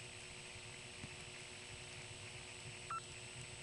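A second selector in a Commerce, Georgia area telephone exchange gives a faint, steady hum with a continuous wash of line noise and one brief tone blip near the end.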